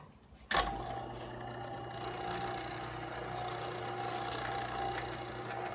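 A milling machine's end mill cuts a T-nut for an Aloris tool post on an Atlas lathe, table feeding slowly against the cutter: a sudden start, then a steady close whirring grind with a low motor hum throughout.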